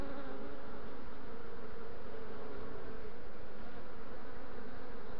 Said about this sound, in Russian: А там пчел куча сидит, даже вот, слышно по ветке шкрабы.